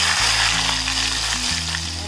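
Smoking-hot mustard oil poured into a chicken tikka marinade bursts into a loud, close sizzle that fizzes steadily and fades slightly toward the end, with a low steady hum beneath and no voices.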